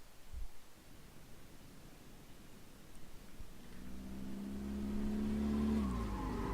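A minivan from the 2010s launches hard from a standstill, its engine note climbing steadily louder as it pulls away and then easing near the end.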